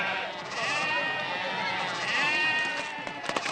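Goats bleating in a Telugu movie scene: a long, wavering bleat rises and then trails off, close and fairly loud, with a second bleat following, and a few short knocks near the end.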